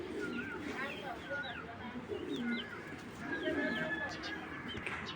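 Large breeding pigeon cooing softly nearby, a few low throaty coo phrases, with other birds chirping faintly in the background.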